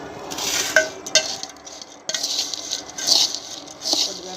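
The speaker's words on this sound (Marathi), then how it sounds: "चांगलं मिक्स करून घ्यायचं" A spoon stirs and mixes bhel snack with a spoonful of oil in a metal bowl, giving scraping, rustling strokes and a few sharp clinks against the rim, close and fairly loud with no talking.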